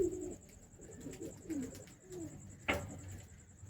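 A pigeon coos softly nearby, making several low gurgling calls in a loose rhythm over a faint background hum.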